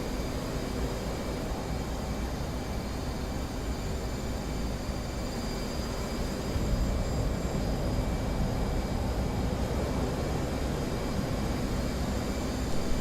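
An F/A-18 Hornet jet lands on an aircraft carrier in the DCS flight simulator, giving a steady, close broadband engine roar that swells slightly louder about halfway through and carries on without talk.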